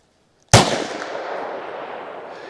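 A single sharp shot of 9mm +P Liberty Ultra-Light self-defense ammunition fired from an MC9 pistol, a loud close crack followed by a long ringing reverberation that slowly fades.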